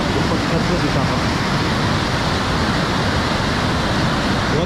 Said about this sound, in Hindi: बहुत तेज़ पानी फ्लो हो रहा है